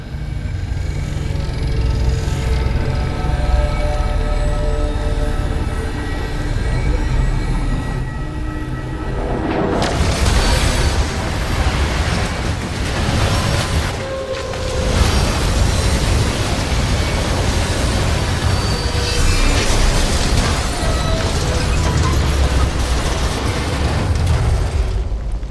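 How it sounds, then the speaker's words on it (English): A train rolls through a scene in the video game Destiny 2: The Edge of Fate, a loud, heavy rumbling roar that surges sharply partway through and stays dense and booming to the end. "I've seen primitive trains like this in old ruins."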